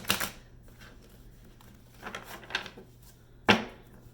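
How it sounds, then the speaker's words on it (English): Tarot cards being shuffled by hand, with soft papery riffles and rubbing at the start and middle, then a crisp louder snap of cards near the end, close and quiet with no talk. "Okay, one last shuffle."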